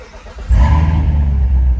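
A 2019 Corvette Z06 engine cranks and fires up, a short starter whir giving way to a loud, deep, rumbling idle that holds steady close by.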